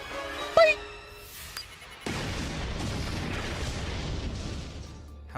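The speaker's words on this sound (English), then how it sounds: "The Rangers thankfully survive the tremendous explosion." A tremendous explosion destroys the Power Rangers' power chamber in a TV episode: a sharp burst after a brief chime-like tone, followed by a sustained low rumbling roar that fills the rest of the clip at steady loudness.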